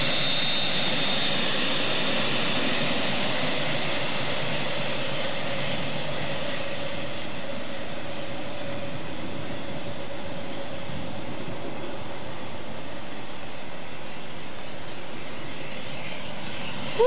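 Jet engines of a BAX Global DC-8-63 freighter on the runway at San Jose airport give a steady, loud, broadband roar with a sustained whine, unbroken and without voices throughout.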